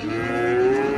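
A bull or cow at a livestock market in Ozgon, Kyrgyzstan, lets out a single loud, sustained moo that fills the whole moment, close to the listener, with no talk over it.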